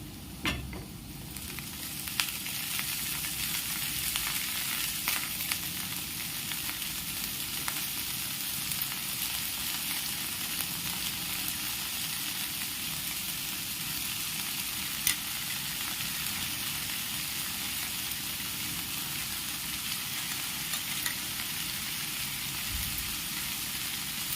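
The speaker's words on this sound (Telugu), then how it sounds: "మనం కట్ చేసి పెట్టుకున్న బొబ్బరికాయ ముక్కల్ని అందులో వేసుకున్నాం" Cut bobbarakaya pieces fry in hot oil in a pan, giving a steady, loud, dense sizzle that runs throughout, with a few faint stirring sounds.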